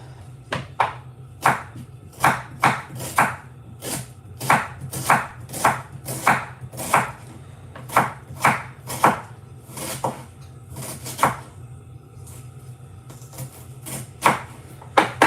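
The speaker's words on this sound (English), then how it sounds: "so that's the onions chopped" A knife chops onions on a cutting board in a home kitchen during Christmas meal preparation. Brisk, steady thuds come in quick bursts with short pauses, loud and close over a low background hum, and nobody talks.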